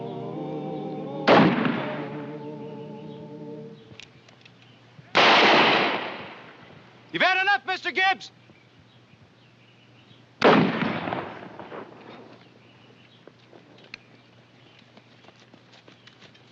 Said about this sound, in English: When I raise my gun, you start a firing.